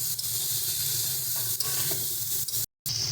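Drumstick stems stirred with potatoes and spices in a frying pan, a steady sizzle with faint scraping of the stir and a brief dropout near the end.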